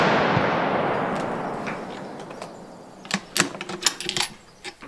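A single rifle shot fired during a test of a Vaughn Precision 30mm MRAD scope, a loud sharp blast at the start with a long decaying rumble, followed by faint clicks and rattles close by.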